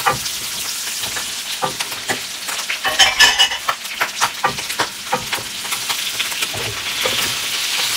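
Onion and garlic sizzle and crackle in hot oil in a pan while being stirred, a steady close frying hiss broken by clicks and scrapes of the utensil, with no talking.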